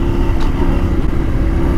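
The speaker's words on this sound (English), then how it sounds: "Revving a bit high." A KTM dirt motorcycle ridden on a dirt trail in South Africa revs steadily and fairly high, its engine a close, continuous droning roar with no talk over it.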